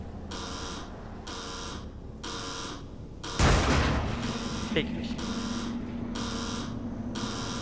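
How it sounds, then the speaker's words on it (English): Repeated electronic beeping in The Evil Within, a horror video game, pulsing in a steady rhythm of about one beep per second, briefly masked by a loud burst midway, with a short spoken word. "Beep. Beep. Beep. Beep. Beep. Beep. Beep."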